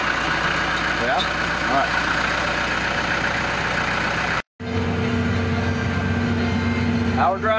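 A car engine is started with the key and settles into a steady idle close by, its low hum running under casual talk, with a brief dropout midway.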